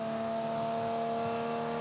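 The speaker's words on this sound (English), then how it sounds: "revving right up with these old 202s" Holden HQ race car with an old 202 engine held high in the rev range, a steady sustained engine drone with strong harmonic whine and no talk.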